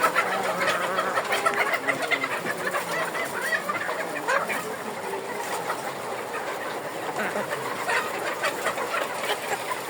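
A flock of chickens and young chicks at a poultry sale, clucking and chirping continuously and fairly close, over a constant background hum, with no speech.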